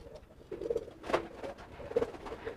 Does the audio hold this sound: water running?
no